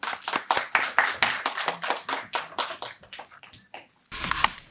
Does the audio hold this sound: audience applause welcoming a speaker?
yes